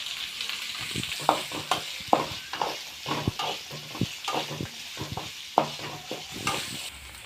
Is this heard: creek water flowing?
no